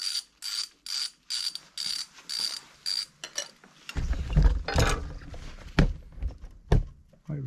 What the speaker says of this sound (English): we're using a 5 millimeter Allen to undo these